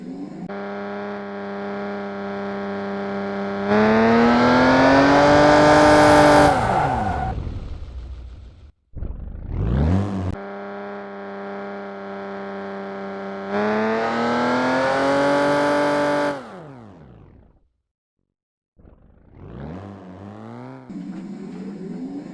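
Car engine in a racing video game drift setup, revving hard in long sweeping bursts with sharp pitch drops between them and brief gaps, loud and alone with no talk.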